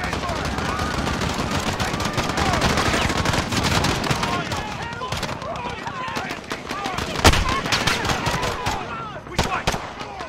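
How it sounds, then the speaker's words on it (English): Gunfire in the video game Call of Duty: Modern Warfare, set at Piccadilly Circus: dense, continuous bursts of rifle and machine-gun shots with sharp cracks throughout, loud and close, with voices mixed in underneath. "Shots fired."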